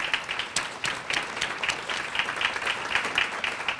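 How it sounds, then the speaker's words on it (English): At a school athletic Hall of Fame induction, an audience claps for the committee, with distinct individual hand claps standing out in a lively, moderately loud patter that continues steadily with no talk. "a quick round of applause if they could stand"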